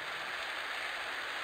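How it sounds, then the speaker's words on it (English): Rain pours in a survival crafting video game, a dense, steady hiss of falling drops on surfaces that stays loud and even throughout, with no talk. "now it's raining"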